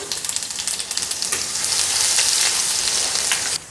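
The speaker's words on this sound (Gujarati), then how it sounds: "લસણ એકદમ સરસ કકડી ગયું છે" Crushed garlic crackling loudly in hot oil with mustard seeds, cumin and asafoetida in a kadai: a dense, close sizzle with rapid pops early on, steady and bright until it drops off sharply near the end.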